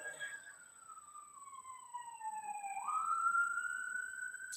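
An emergency vehicle siren wails with a steady, clear tone that dips and then rises again, heard at a moderate distance with faint background noise underneath.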